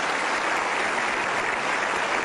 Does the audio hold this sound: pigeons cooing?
no